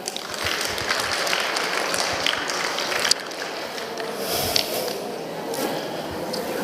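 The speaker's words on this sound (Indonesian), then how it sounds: "Beri tepuk tangan." A crowd at a lecture applauds steadily, a dense patter of many hands clapping that holds for several seconds without letting up.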